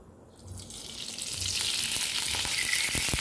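Eggplant sizzles and crackles in hot oil, the frying growing louder and steadier after a quieter start, with a few light clinks.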